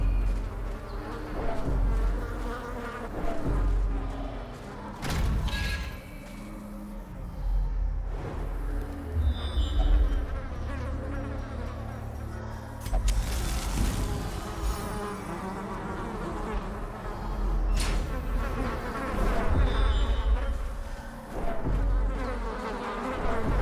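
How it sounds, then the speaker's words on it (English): Mosquitoes buzzing in the Darkest Dungeon video game, a persistent whiny insect drone that swells and fades over layered game ambience and music for the whole stretch. "I hate the sound of the mosquitoes."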